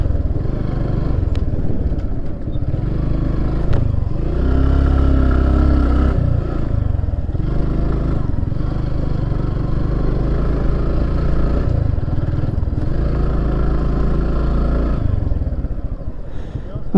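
A motorcycle rides along the sand at Kuakata Beach, its mid-pitched engine droning steadily and close with periodic rises and dips in throttle, over wind and clattering.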